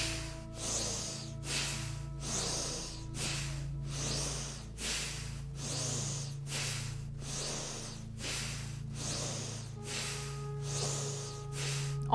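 Slow, deep breathing during a gentle chair yoga session: about a dozen long, even breaths with a steady rhythm, close and soft over a low background hum, with no talking.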